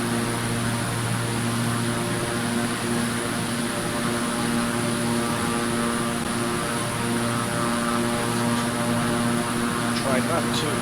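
A Beechcraft propeller plane's engine drones in a flight simulator game, a loud, constant hum with steady tonal layers and no break, a short rising whine near the end.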